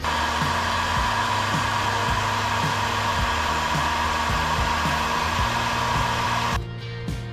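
A heat gun blows a steady, loud airy roar while heating a cable, with a rhythmic mechanical ticking underneath, then the roar drops sharply near the end as the gun is shut off.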